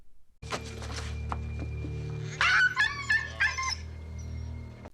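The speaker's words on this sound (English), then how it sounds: "is someone torturing that poor dog?" A distressed dog whimpers and yelps, starting with short yips over a low steady hum, then a burst of loud, high, wavering cries and whines near the middle, close and alone without speech.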